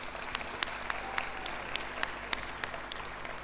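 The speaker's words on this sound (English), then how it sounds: "Another round of applause for the Honorable Minister" A graduation ceremony audience at Cavendish University Uganda gives the Honorable Minister scattered, fairly sparse applause. The individual claps sound distinct and somewhat distant over a low room murmur.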